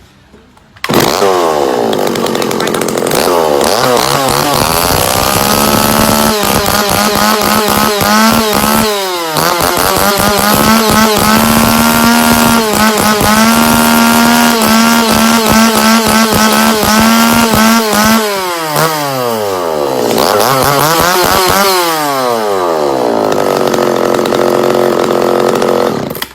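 A used Japanese Shingu chainsaw engine roars close and loud, revving up and down in repeated surges, then settling into a steady high idle before revving again.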